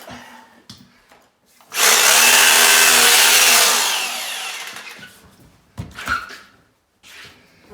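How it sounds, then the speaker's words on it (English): A power drill whines loudly for about two seconds, winding down as it bores a drainage hole in a flooding cellar during Arctic winter, with brief clatter and handling noises around it. "Let's drill another hole over there."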